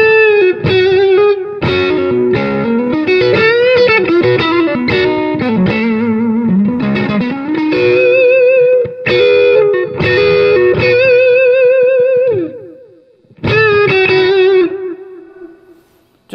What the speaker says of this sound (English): Just a little bit of an echo,